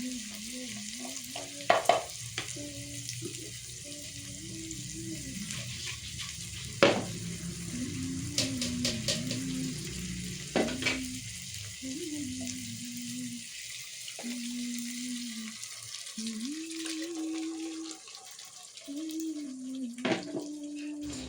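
Ground coriander-leaf masala for chitranna fries and is stirred steadily in a pan, a low continuous sizzle with scraping spoon strokes and occasional louder clinks, fairly quiet and close, with no talking.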